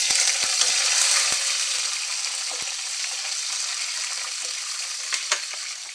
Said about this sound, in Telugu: ఇప్పుడు కొంచెం కరివేపాకును, చిన్నగా తరిగి పెట్టుకున్న చీలికలు చేసుకున్న ఒక ఉల్లిపాయ వేసుకున్నామండి